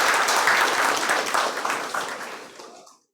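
Audience applause at a student toppers' talk session, a dense, steady wash of many hands clapping that fades away toward the end.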